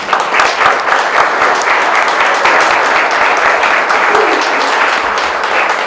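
An audience applauds at a civic tribute honoring a man's long-overdue work for the city, producing steady, dense, close clapping that holds at full strength throughout without a break.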